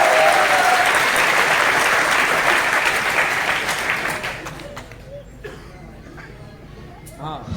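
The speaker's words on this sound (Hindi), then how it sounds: "आप ताली बजाइए" A large seated crowd at a motivational business talk bursts into loud, dense applause that holds for several seconds, then fades out, leaving a quieter room with scattered noise.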